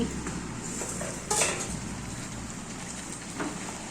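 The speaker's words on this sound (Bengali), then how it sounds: "ঢাকনা তুলে নিচ্ছি" A metal lid comes off a pot of meat cooking in a poppy-seed paste, giving one sharp clank partway through. A soft simmer carries on underneath and is quiet and close throughout.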